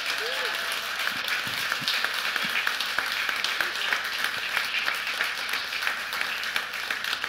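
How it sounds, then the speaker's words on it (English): A church congregation at Christ Presbyterian Church, Cool Springs, applauding new child members, steady clapping from a large crowd filling the room throughout, with talk mixed in. "A round of applause for these children."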